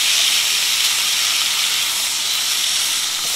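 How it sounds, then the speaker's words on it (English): Steak searing in a hot skillet, a steady loud hiss and sizzle that holds evenly throughout with no break and no talk over it. "Seared to perfection. Everybody in that skillet"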